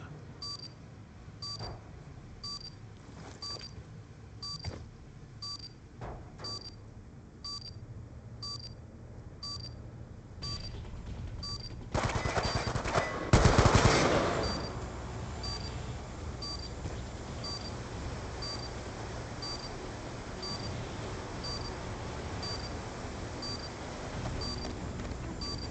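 A bomb armed in the video game Black Ops II beeps steadily in short, evenly spaced high electronic tones, with a louder burst of game noise midway before the beeping carries on.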